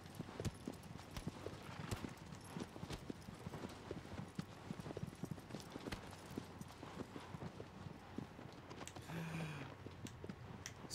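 Horse hooves clip-clop steadily in Shadow of the Colossus on PS4 Pro, a continuous rhythmic gallop of close, loud footfalls with a brief whinny near the end.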